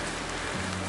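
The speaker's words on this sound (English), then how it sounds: "Oh, it is raining." Steady rain falls outdoors on Crow Pass, an Alaska mountain pass, during a five-day adventure race, giving an even, close hiss of drops with a low rumble entering partway through.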